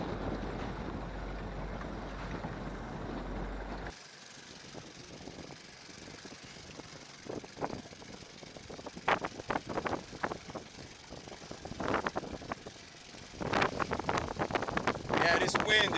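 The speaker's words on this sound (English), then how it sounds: "this wind is really picking up" Gusting wind buffets a boat on Lake Michigan, starting as a steady roar that drops away, then returning in louder bursts of rushing air and hull and deck knocks toward the end.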